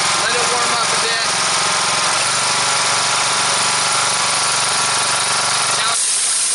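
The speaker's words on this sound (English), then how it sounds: "now I can turn the motor up a little bit faster. Let it warm up a bit." The engine of a Dewalt 3835 wet blaster runs loud and steady as it revs up and warms, a dense, constant roar with hiss that drops away sharply near the end.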